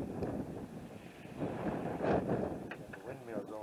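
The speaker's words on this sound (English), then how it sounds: "It's flat out windy." Strong winter wind in Nevada buffets the microphone with a steady broadband roar that swells and gusts, loudest around the middle, with no clear talk over it.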